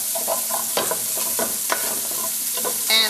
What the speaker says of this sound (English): So you just want to stir that around in the olive oil